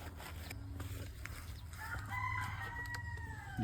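Native chickens on a farm crow and cluck softly from a distance, a long drawn crow rising midway over a quiet, low rural background.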